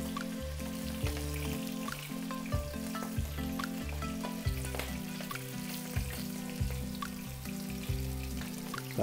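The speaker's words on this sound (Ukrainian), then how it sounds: "Посмажимо одну рибу в муці," Floured carp sizzling steadily in oil heated to around 130–140 °C, a dense, continuous frying hiss with scattered pops and crackles throughout, close and loud with no voices.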